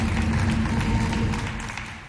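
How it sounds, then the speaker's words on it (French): Audience applause at a Chadian television variety show, a dense steady patter of many hands clapping that fades slightly toward the end. "Applaudissements pour les gens de Kabbalah aussi."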